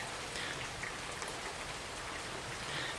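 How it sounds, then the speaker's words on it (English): Steady rain falls on a thundery Saturday morning in Carrollton, Ohio, a soft even hiss of drops on surfaces with no voices and no thunderclap. "On this fine Saturday morning, rainy morning, thundering and some lightning."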